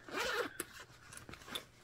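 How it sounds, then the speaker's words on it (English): A full zip top closure on a medium matte vegan leather bag being pulled open, with a few quick close raspy zipper strokes in a short burst and no speech. "full zip top closure."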